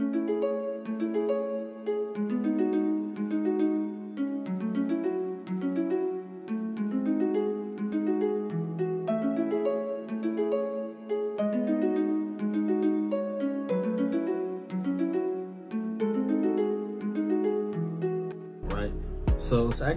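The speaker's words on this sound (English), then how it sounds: "It's like a guitar slash harp thing. It sounds more like a harp to me," Harp-like guitar synth patch from the Nexus Bossa Guitar Dream preset playing a steady, plucked afrobeat melody with bright, ringing repeated notes, moderately quiet and alone, ending in a sudden burst of noise.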